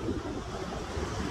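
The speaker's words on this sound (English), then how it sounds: "these waves and enjoy the breeze" Ocean surf rolls steadily onshore under a gusting breeze, a continuous broadband wash of waves mixed with wind rumble on the microphone, loud and close throughout.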